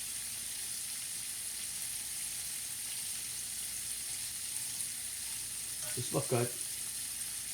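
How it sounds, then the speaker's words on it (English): Shrimp simmer in a spicy fra diavolo tomato sauce with a quiet, steady sizzle throughout, and a voice speaks briefly near the end. "They're going to be cooking in the tomato sauce also."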